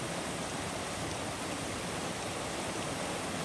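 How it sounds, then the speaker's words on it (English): A mountain creek in the Great Smoky Mountains rushes steadily over rocks, a close, unbroken broadband roar of flowing water with no voices. "Just another beautiful creek in the Smokies."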